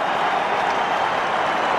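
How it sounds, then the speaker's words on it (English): A rugby stadium crowd at a 2002 England versus Australia test match roars and jeers steadily at a goal kicker, a dense, continuous wash of distant voices with no breaks. "The crowd try and put him off"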